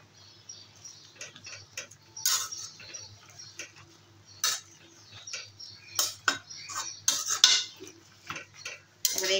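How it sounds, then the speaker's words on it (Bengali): Bitter bogi jute leaves are added to a pan and stirred, producing irregular metal spoon clinks and scrapes against the pan, close by with no voices. "তার জন্য আগে এই শাকটাই দিয়ে দেবো।"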